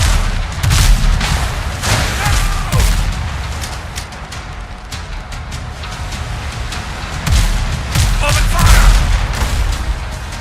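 Ship cannons firing in the naval video game Windrose, a series of heavy booms scattered irregularly, some in quick clusters, loud and close, with a voice speaking between blasts.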